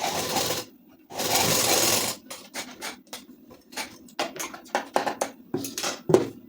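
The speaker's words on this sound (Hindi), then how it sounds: "इसको भी सिलाई चलाएंगे" A sewing machine stitches pleats into a ladies' suit in two loud sustained runs, followed by a series of sharp short clicks and taps from handling the machine and fabric.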